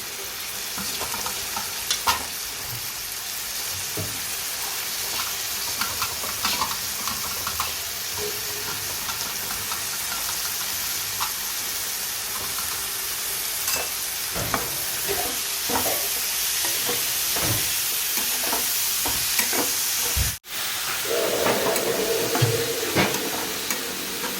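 Spinach cooking with masala, onion and tomato in a pan, giving a long, even sizzle and hiss with scattered stirring clicks that continues steadily throughout, close and with no voices.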